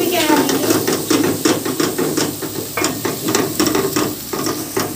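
Garlic and chili paste fries in a pan, with a bright sizzle broken by rhythmic scraping strokes of a spoon stirring it every half second or so, close and fairly loud.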